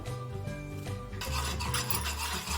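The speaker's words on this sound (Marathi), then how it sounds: "हे बॅटर घट्टसर होईपर्यंत आपल्याला जवळजवळ आठ ते दहा मिनटं लागणार आहेत त्यासाठी सतत ढवळत राहायचं आहे" A spoon working gram flour batter for khandvi in a pan, a steady scraping, rubbing stir that grows louder and rougher partway through, continuous with no talk.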